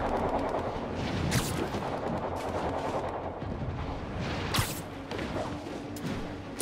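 Gunfire rattles in Marvel's Spider-Man Remastered, with repeated sharp cracks and short bursts scattered through a busy, steady combat din at moderate distance.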